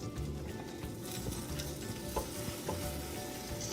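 Banana bread French toast frying in a pan after being flipped, a steady close sizzle with a few light clicks and taps from the pan, no voices.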